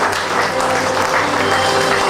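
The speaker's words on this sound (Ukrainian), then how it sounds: "І я думаю, оплески будуть зараз найбільші" Loud, thick applause from a crowd at a salon opening in Ukraine, continuous clapping close and even for the whole moment.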